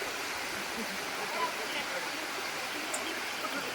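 Waterfall near Borra Caves, heard as a steady broadband rush of falling water, even and unbroken throughout at moderate distance.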